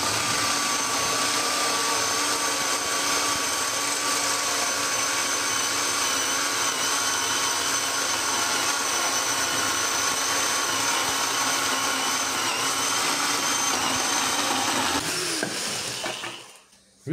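A dull chainsaw chain grinds through rotten, crumbly wood, producing a loud, continuous whining drone for about fifteen seconds before the engine cuts off and the sound quickly dies away, with no talking.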